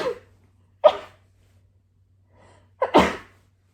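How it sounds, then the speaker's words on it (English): A person sneezes twice, a short sharp burst followed after a pause by a louder, fuller sneeze with a quick intake of breath before it, close and clear in a quiet room. "I'm going to sneeze."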